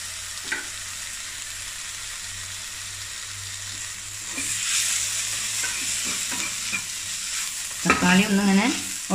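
Tomato masala for a fish filling sautés in a pan, giving a steady close sizzle broken by scattered spoon scrapes, with a louder burst of stirring and clatter near the end; no voices.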